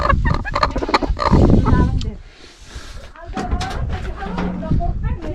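Chickens cluck and fowl call in a rural highland setting during a move from the summer pasture to the village, mixed with nearby people talking over steady outdoor noise.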